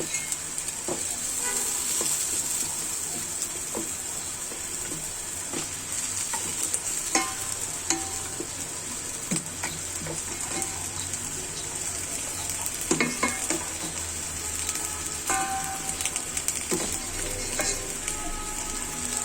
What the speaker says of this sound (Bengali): এখন আমি এতে আমার মাংসটা ঢেলে দিব এবং মাংসটা কষিয়ে নিব ভালো করে